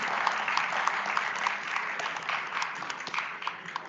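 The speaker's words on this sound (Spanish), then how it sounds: "Un aplauso, por favor, para nuestro panel." An audience applauds a panel at a conference on automotive firmware, a moderate, steady patter of clapping with sharper individual claps, lasting a few seconds without voices.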